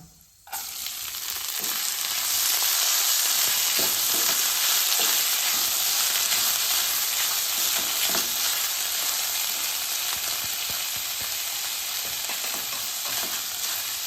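Rice sautés in ghee for coconut rice with a continuous, close, hissing sizzle and occasional stirring clicks after a brief quiet opening.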